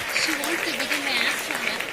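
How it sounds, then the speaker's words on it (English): Students at a school event applaud in a brief, dense burst of clapping from a sizable group, with voices heard over it. "Let's give them a big round of applause."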